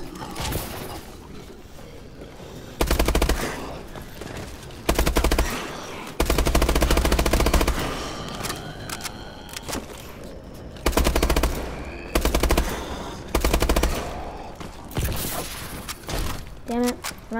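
Video game gunfire in a Carrier level, with loud bursts of rapid automatic fire separated by short pauses, alongside other in-game sounds and a voice talking over parts of it.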